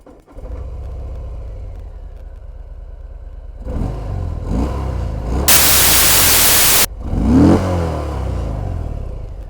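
Harley-Davidson Fat Bob motorcycle with a Milwaukee 114 engine starting up: a low background hum, then the engine cranking and catching into a rumbling idle with revs, interrupted by a loud burst of static-like noise.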